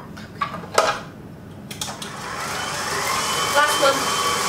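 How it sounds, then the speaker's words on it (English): An electric mixer beats pumpkin spice cake batter for a bundt cake, giving a steady whirring drone that grows louder and fuller after a few light clinks and knocks at the start. "Now we're going to turn the mixer to low"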